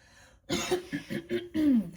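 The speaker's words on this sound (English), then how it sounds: "Let me clear my throat." A person clears their throat several times in quick succession, short rough bursts ending in a longer voiced hum, close and fairly quiet.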